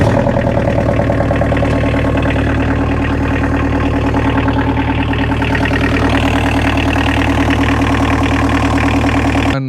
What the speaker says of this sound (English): UTV 4x4, Volkswagen diesel engine, electric power steering.